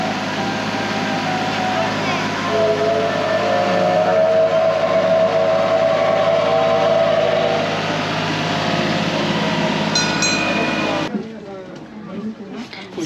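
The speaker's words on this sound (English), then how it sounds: "There's the train." A loud, steady rumble and roar of a passing train in Osaka, Japan fills most of the clip, with a brief high squeal before it drops away suddenly.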